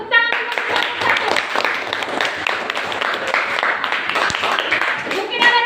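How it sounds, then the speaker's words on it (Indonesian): A class bursts into fast, dense clapping for a student group, the crackling applause steady and close, with voices mixed in. "Tepuk tangan untuk kelompok"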